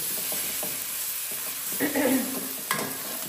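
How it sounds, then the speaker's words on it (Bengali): Garlic and ginger paste fries in a pan with a constant close sizzle. A few scraping and clinking stirs come near the end, and no one speaks. "এটাকে ভালো করে ভেজে নিতে হবে।"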